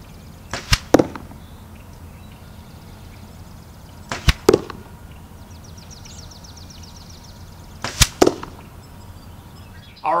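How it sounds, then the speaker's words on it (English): Three shots of arrows with Zinger 4-fletch vanes fired close past the camera, each a sharp release snap followed by a quick whooshing zip, spaced a few seconds apart over low background noise. "We're going to shoot these arrows as close to the camera without hitting it as possible, see what kind of noise level we have"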